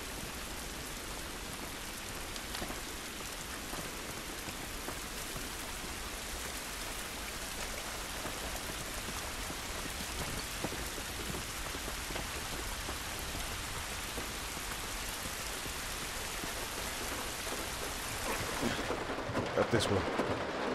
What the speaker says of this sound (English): This rain ain't gonna do us any good.